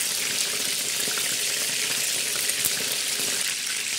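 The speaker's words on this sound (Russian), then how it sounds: "И также со второй стороны обжариваем" Constant crackling sizzle of chicken cutlets frying in a pan, steady and close, with no voices.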